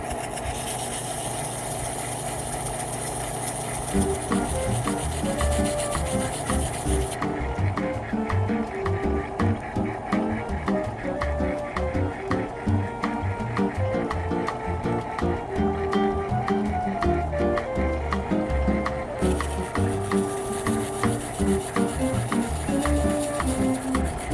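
A faceting machine polishes facets on a natural California quartz stone, a steady motorized hum with a rhythmic repeating grinding pattern that shifts tone partway through and carries on evenly.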